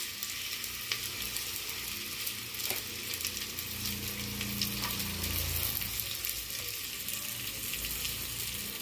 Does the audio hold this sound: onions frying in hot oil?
yes